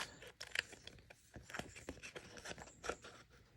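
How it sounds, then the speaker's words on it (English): Scissors snipping a paper craft piece from a card-making kit, a quick series of faint, sharp cuts and rustles close by. "I'll cut this one off"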